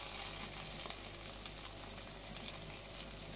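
Tomato puree sizzles steadily as it fries in a pan, a continuous close crackle and hiss without pause.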